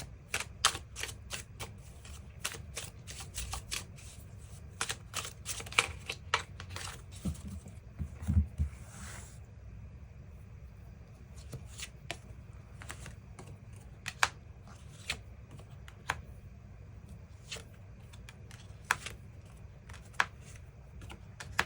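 Tarot cards being shuffled and drawn, giving a run of quick, crisp flicking and snapping clicks that come in bursts and pauses, close and moderately loud with no talking.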